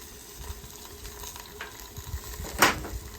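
A metal spatula scrapes seasoning residue off a hot griddle used to sear a T-bone steak, with faint sizzling throughout and one sharp, loud scrape near the end.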